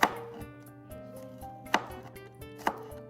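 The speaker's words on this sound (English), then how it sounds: "Slice your garlic thinly" Knife chops through thin garlic cloves on a cutting board, three sharp distinct cuts at irregular intervals over a faint steady background hum, close and crisp with no talking.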